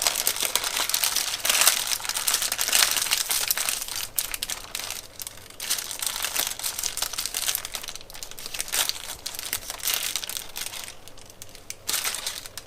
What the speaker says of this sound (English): Then I'll take my edges and fold them up.